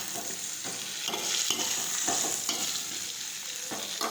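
Stuffed okra sautéing in hot oil with mustard seeds, cumin and asafoetida, a steady close sizzle broken by repeated scraping stirs of a spoon against the pan, no voices.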